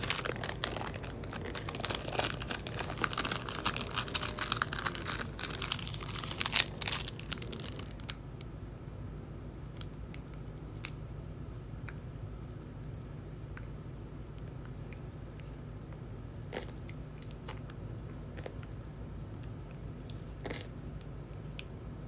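A toddler peels and eats a cheese snack, with loud crinkling of the wrapper at close range during the first eight seconds, then faint scattered crinkles and small handling sounds over a steady low room hum.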